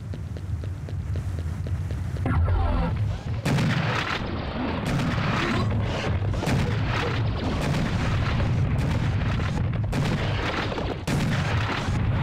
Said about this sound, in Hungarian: Az ott egy ágyú, ha jól látom az.